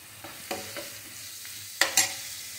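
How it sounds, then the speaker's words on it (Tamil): Ingredients for chilli soya sauté softly in a pan, with a low steady sizzle broken by a few sharp stirring scrapes near the end, close and fairly quiet. "கொஞ்சம் வதங்கினா போதும்."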